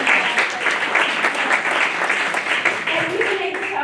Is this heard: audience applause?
yes